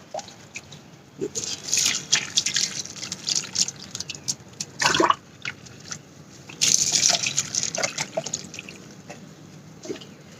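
Cow-dung compost water is poured onto a potted plant, giving splashy, irregular trickling and dripping bursts across the whole stretch, close and moderately loud with no talking.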